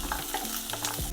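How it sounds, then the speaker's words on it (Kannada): Ginger, garlic and onion fry in a pan, giving a steady close sizzle as they are stirred, with scraping and shuffling sounds and no talking. "ಶುಂಠಿ, ಬೆಳ್ಳುಳ್ಳಿ, ಈರುಳ್ಳಿ ಫಸ್ಟ್ ಹುರಿಬೇಕು."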